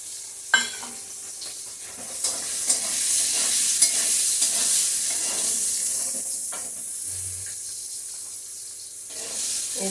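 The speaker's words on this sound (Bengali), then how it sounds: "এই যে শুটকিটা ভেজে নিলাম।" Dried fish (shutki) fries in hot oil with a steady close sizzle and hiss, while a utensil stirs and scrapes the pan in irregular knocks throughout.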